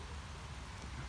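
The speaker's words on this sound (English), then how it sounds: "If you can hear the rain, ladies and gentlemen." Rain falls steadily outdoors beside an old manor house gatehouse in Blackburn, a dense, faint, even hiss with no voices.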